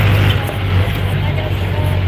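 Steady low engine drone and broadband road rumble inside a moving Philippine jeepney, loud and continuous with a droning hum throughout, no clear talk on top.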